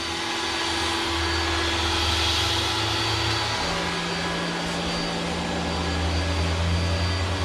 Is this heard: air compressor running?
yes